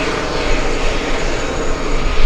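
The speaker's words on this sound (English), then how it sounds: "Now we'll go from the Delta 757 over to the A330." An Airbus A330 jet airliner at JFK airport produces a loud, steady, close engine roar that fills the whole moment without a break.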